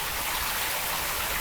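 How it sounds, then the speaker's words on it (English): Rain sound effect plays through a home theater system in a renovated English cottage-style house in Portland, Oregon, a loud, steady, even hiss of falling rain with no voices. "And with the rain sound on"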